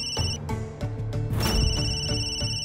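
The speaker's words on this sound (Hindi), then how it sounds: "गुरु माँ, बत्सला जी फोन कर रही है।" A telephone rings with repeated electronic trilling bursts in a steady pattern, loud and close, with no talk over it.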